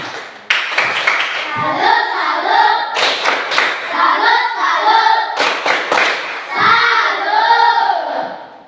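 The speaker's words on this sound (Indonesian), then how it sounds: "Tepuk tangan untuk kita semua dulu." Schoolchildren in a classroom clap together in bursts, the rhythmic claps mixed with loud chanted young voices repeating a short cheer several times.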